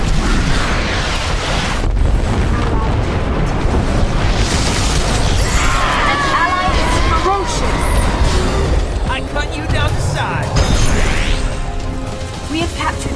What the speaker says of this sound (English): have fired the orbital cannon